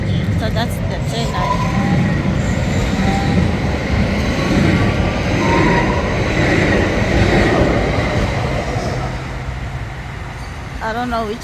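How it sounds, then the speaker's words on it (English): A Dallas light rail train rumbles past at a station, a loud, sustained roar with rattling wheels and clatter holding steady throughout, while a person speaks nearby. "So that's the train"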